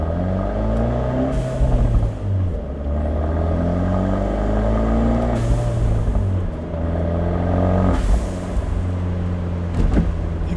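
An Abarth 124 Spider accelerating with its exhaust valves closed runs through several gears, each pull a rising engine drone broken by brief shift gaps and a small pop, loud and close from inside the car, with no talking.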